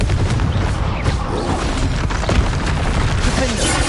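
Confringo fire-blast spell cast in Hogwarts Legacy combat, booming bursts and crackling impacts within a loud, busy duel mix, with shouted spell names in the background.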